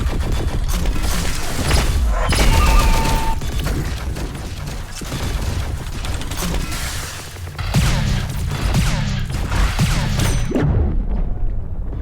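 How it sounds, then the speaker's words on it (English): Sniper gunfire from the Thetan Arena video game, dense and loud, with thumping shots and booms over a busy battle mix of mechanical noise and effects, ending in a short silence. "So me and the other sniper sniped each other."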